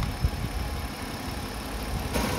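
A car engine with a shaking serpentine belt auto-tensioner idles steadily with a low, even rumble and a faint mechanical rattle, no voices, with a brief bump near the end.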